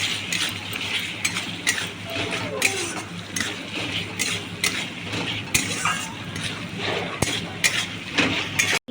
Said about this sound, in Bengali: এটা ভালো করে একটু নাড়াচাড়া করে নেবো যাতে কাঁচা গন্ধটা বেরিয়ে যায়।